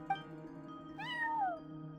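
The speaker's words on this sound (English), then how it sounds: "cat watching over the front desk" A cat in a video game gives a single rising-then-falling meow at a hotel front desk. It is clear and mid-close over a quiet, steady background hum, with no talking.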